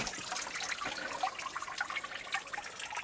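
Clean stream water running straight off the hills at a wild camping spot makes a steady close trickle and babble, continuous and fairly loud with no voices.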